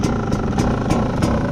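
A Rieju MR300 enduro dirt bike, 300cc, runs close and loud just after firing up, its engine chugging with a fast, uneven pulsing beat and regular sharper exhaust pops.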